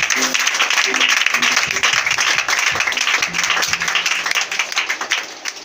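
A church congregation claps and applauds loudly and steadily, a dense wash of hands that swells and thins slightly over several seconds, with a voice faintly underneath.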